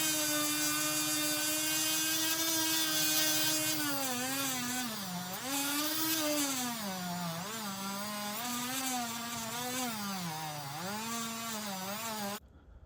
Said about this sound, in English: Sometimes I feel like the Dremel's not even cutting, or polishing is just like